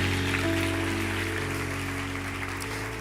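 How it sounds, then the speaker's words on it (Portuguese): Congregation applauding in a church, with steady, sustained clapping from a crowd over held musical tones underneath, gradually easing off. "Pode aplaudir o Senhor."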